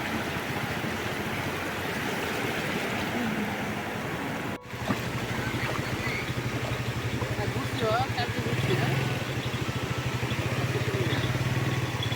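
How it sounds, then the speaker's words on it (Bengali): Bay of Bengal waves wash in on the beach at Cox's Bazar as a steady roar, with an engine droning underneath and a voice speaking faintly now and then. "কি সুন্দর ঢেউ এই ঢেউগুলো দেখলেই খুব একটা শান্তি শান্তি লাগে"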